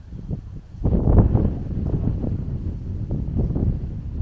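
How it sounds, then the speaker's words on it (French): Steady gusting wind rumbles and buffets the microphone outdoors at a desert oasis in Morocco, a low roaring wash that swells after the first second and stays constant. "on n'a pas de chance, c'est que on a beaucoup de vent"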